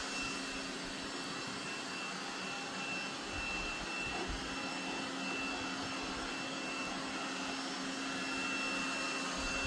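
A robot vacuum cleaner runs steadily while cleaning a room at home, a constant whirring motor drone with a faint high whine, unbroken for several seconds and heard alone.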